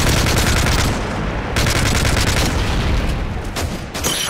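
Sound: enemy strafe run gunfire in a Call of Duty video game

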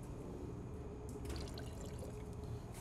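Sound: bug and tar remover poured into a bucket of water

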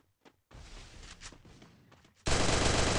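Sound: gunshot in Garena Free Fire video game

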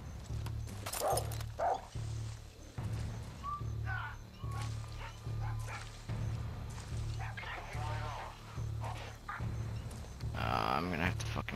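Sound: dog barking in Far Cry 6 video game

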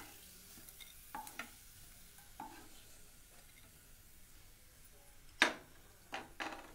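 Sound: food frying in oil

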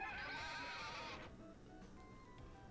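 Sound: horse Winnie neighing in the video game A Wonderful Life

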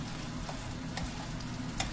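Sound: pan-frying dried tofu

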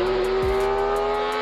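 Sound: BMW 1 Series engine intake revving at 12,000 RPM

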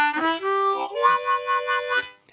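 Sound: harmonica jam first part with pickup and chord

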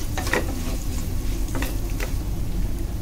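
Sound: nigella and sesame seeds sizzling in hot oil

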